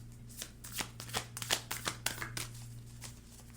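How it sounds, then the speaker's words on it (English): Tarot cards being shuffled in quick, irregular riffles and slaps, close up, with a steady low hum underneath. "Let's keep shuffling."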